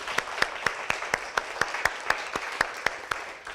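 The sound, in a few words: audience applause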